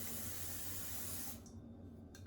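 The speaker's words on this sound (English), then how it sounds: "Then you're going to spray a 9 by 13 baking pan." Cooking spray hisses onto a 9 by 13 baking pan in one steady, close burst of about a second and a half, followed by a short second puff.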